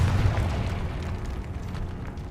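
A Confringo fire spell from Hogwarts Legacy erupts in a loud, deep explosive burst that rumbles and slowly fades over two seconds, with no talking.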